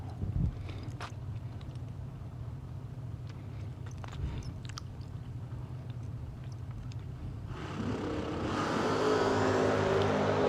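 A Ford Mustang GT and a Mustang LX launch in a drag race, a distant low rumble at first that surges into a loud, rising engine roar in the final seconds.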